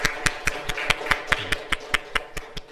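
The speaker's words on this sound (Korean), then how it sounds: "네, 하나님께 우리 감사와 영광의 박수를 하나님께 올려드리도록 하겠습니다." A church congregation clapping together in a steady, even rhythm, about a dozen sharp, evenly spaced claps at moderate loudness, with no talking.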